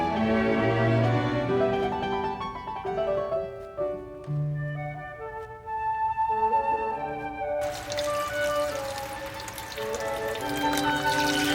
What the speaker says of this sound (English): Top up the broth with just enough water to cover the daikon pieces.